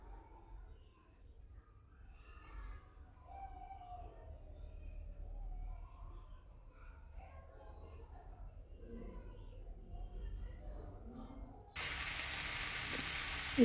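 Ginger and cumin spice paste fries in a pan for a katla fish curry, faint and quiet at first, then a loud, steady sizzle bursts in near the end.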